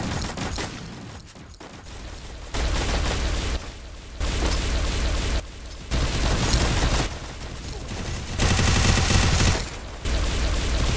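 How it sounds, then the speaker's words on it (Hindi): Sustained gunfire from a gun in the Free Fire video game, heavy bursts and booming shots coming in loud blocks with short gaps between them, no voices over it. "कौन सी गन चला रहा है जिसका रिलोड ही नहीं है"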